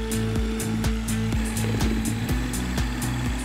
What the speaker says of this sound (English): stirring to blend thoroughly and evenly using a slow speed drill fitted with a mixing blade